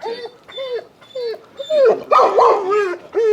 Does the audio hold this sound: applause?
no